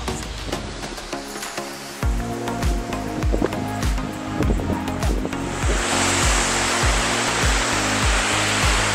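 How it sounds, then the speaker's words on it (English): Steady, loud rushing water fills the scene, a dense roar with a faint rhythmic mechanical patter underneath at first. "There's a waterfall."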